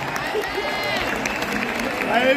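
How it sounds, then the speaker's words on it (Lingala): An audience in a Paris concert hall claps and cheers for a departing performer at a gospel event, continuous applause with some crowd voices mixed in and a slight swell near the end. "est-ce qu'on peut acclamer pour lui?"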